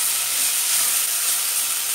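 Onions sizzling in a soup pot for vegetable soup give a loud, close, continuous hiss that stays even and unbroken throughout.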